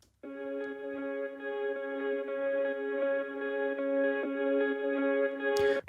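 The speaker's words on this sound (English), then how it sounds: "Which is a very quiet ambient kind of sound, just steady notes that play the whole song through." A quiet ambient electric guitar layer, recorded straight into an audio interface with Bias effects, holds steady sustained notes in a smooth, even drone for several seconds.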